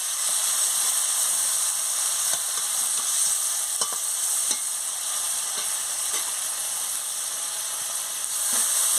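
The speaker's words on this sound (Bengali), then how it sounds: "সামান্য একটু জল দিয়ে দিচ্ছি, দিয়ে ভালো করে মাছটাকে মশলার সঙ্গে কষিয়ে নিচ্ছি।" Fish cooking down with spices and a splash of water in a pan, a loud continuous sizzle and hiss with occasional scraping and stirring clicks, close up and without talk.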